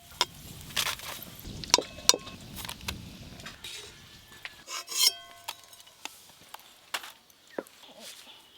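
Dry, crisp rustling and scraping as crunchy fried potato straws are tossed and stirred, with sharp clicks and crackles at irregular moments, close and fairly quiet.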